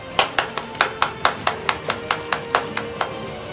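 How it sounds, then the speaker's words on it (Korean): Slow, evenly spaced claps at a StarCraft esports final award ceremony ring out about four per second, crisp and fairly close, with a soft hum underneath and no talking. "시상을 도와주신 서수길 대표님에게 아낌없는 박수를 부탁드립니다."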